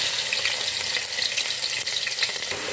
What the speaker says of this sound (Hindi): अब इसमें हम लहसुन अदरक डालेंगे,